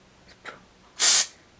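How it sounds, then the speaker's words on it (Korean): A scalp care spray for stress relief gives one short, loud, close pressurized hiss after a couple of faint breathy sounds. "이게 스트레스를 제거해주는 스프레이예요."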